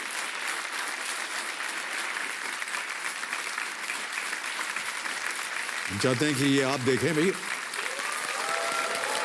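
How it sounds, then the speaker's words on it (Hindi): Studio audience applause on the Kaun Banega Crorepati game show set, a continuous wash of many hands clapping throughout while a voice talks over it. "तालियां बज जाए इनके लिए"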